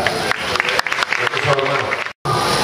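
Steady audience applause at a nursing graduation ceremony, a dense wash of clapping with someone speaking loudly over it before it briefly cuts out.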